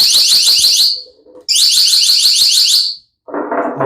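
NEXTORCH ND30 electronic flashbang in its third mode blasting a piercing, rapidly warbling siren in two loud bursts close by, followed by a short harsher noise at the end.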